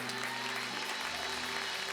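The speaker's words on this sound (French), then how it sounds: "Donnez une bonne main d'acclamation." Church congregation applauding during a French-language worship service, a steady wash of clapping filling the room for a couple of seconds with faint organ or keyboard tones sustained underneath.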